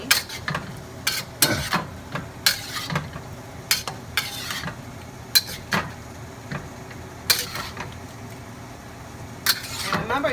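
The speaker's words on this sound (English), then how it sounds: "I'm just going to pretty much mix the beef and the broccoli together" Beef and broccoli being stirred together in a hot pan, with repeated scraping clinks of a utensil against the pan in an irregular rhythm over a soft sizzle, and a voice speaking at times.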